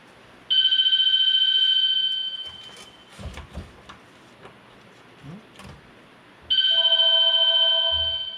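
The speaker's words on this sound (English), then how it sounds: "Gotta get the phone." A telephone rings in an electronic double burst near the start and again near the end, fairly loud and close, with quiet garage clatter between the rings.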